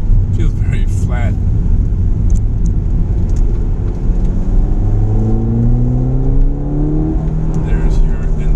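Turbocharged Ford Fiesta ST engine pulling hard through the gears, a steady loud whir and rising induction tone sweeping upward as the car accelerates, with a voice talking over it.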